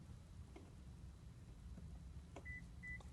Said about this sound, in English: Next fob, we're going to hear 2 beeps.